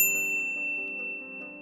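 A single bright notification bell ding rings out clearly and alone, its clean tone sustaining and slowly fading over the short clip.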